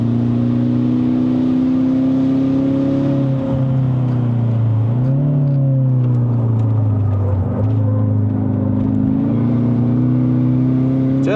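Kia Optima GT with a 242 hp turbocharged engine climbing a mountain road, heard from inside as a loud, continuous engine drone that rises and falls with revs through the bends, with no talk.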